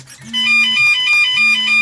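A Flysky PL18 radio transmitter sounds its low voltage alarm, loud close electronic beeps in a repeating pattern with a steady tone underneath.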